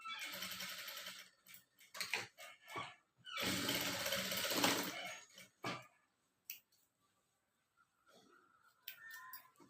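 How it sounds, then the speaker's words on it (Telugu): A home sewing machine stitches a fall onto a saree in several quick bursts, with pauses and handling noises between runs, fairly close and moderately loud, with no talking. "ఇప్పుడు నేను ఫాస్ట్ పెట్టకుండా డైరెక్ట్గా స్టిచ్ చేస్తున్నాను కదా"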